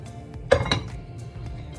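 Cheese and mustard sauce for macaroni being stirred in a pan, with a couple of sharp metallic clinks and scrapes of a utensil against the pan over a quiet kitchen background.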